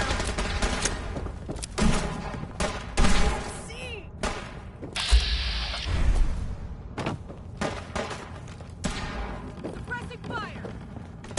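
Fallout 4 combat, with sporadic gunshots, volleys and heavy thuds breaking through loud, near battle noise while characters shout and talk throughout.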